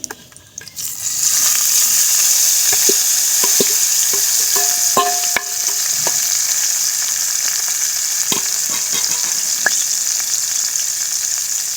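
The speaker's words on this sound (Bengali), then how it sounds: "এই ছ্যাক করে ওঠে।" Ground turmeric, chili and cumin hit hot oil while fish is being cooked, bursting into a loud, close, sustained sizzle with scattered clinks and scrapes of stirring.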